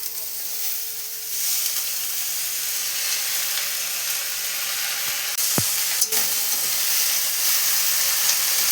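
Piring greens dropped into a hot pan, a loud, bright sizzle and hiss that swells and holds steady, with a metallic clank and scrape of stirring near the end.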